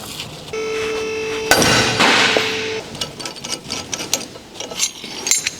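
A 17mm wrench turns the ball joint separator screw on a Dodge Ram front suspension. A sustained metallic ring gives way to a sharp clank, then a run of uneven ratcheting clicks and knocks up close.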